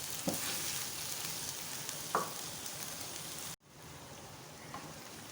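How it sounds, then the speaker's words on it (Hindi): Potatoes frying in a pan for aloo bhujia, a steady close sizzle with a couple of soft stirring scrapes, briefly cutting out near the end before the sizzle resumes more faintly. "आलू की भुनाई करें अच्छी तरह से, उसके बाद हम बाकी चीज़ें डालेंगे।"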